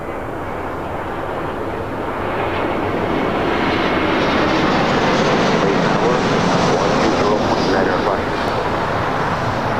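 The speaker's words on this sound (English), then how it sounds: "It's the flight coming in from Detroit." An airliner on approach to land at LAX, arriving from Detroit, roars steadily and loudly overhead, its broadband engine noise swelling slightly and holding throughout.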